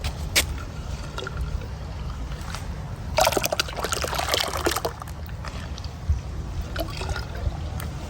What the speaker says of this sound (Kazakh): Міне 1 литр тұнбаны алып, мына 9 литр суына құямын, араластырамын.